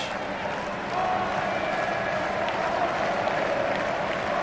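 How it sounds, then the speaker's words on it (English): Football stadium crowd at the Indonesia vs Thailand AFF Cup final leg, a dense wash of applause, cheering and distant chanting that carries steadily throughout, no clear voices on top. "Just listen to that crowd."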